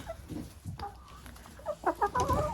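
Dominant breed hens cluck in a short, uneven series of close, moderately loud calls, growing busier toward the end, with no talk.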